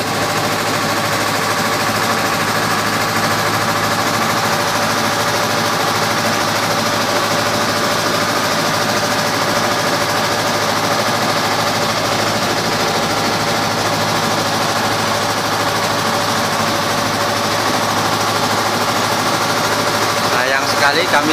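A boat engine drones loudly and steadily throughout, a constant mechanical rumble with a faint voice underneath, as the boat crosses at Tenggarong, Indonesia.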